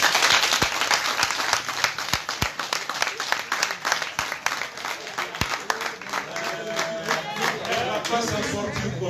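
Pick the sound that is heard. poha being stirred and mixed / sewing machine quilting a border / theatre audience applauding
theatre audience applauding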